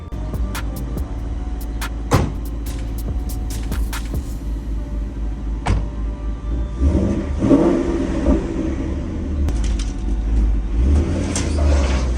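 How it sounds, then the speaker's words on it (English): A Ford Mustang with damage idles, then revs as it is driven off a trailer. A few sharp clunks come first, then engine rumble rises and falls, close and moderately loud with no talking. "let's go ahead and drive this thing clean off the trailer"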